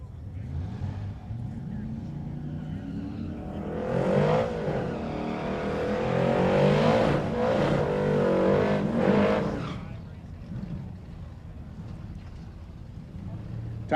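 Drag race cars, including a 1969 Camaro and a Triumph, roar down the strip at Hot Rod Drag Week, with a loud engine swell building mid-clip and fading, under an announcer's continuous commentary.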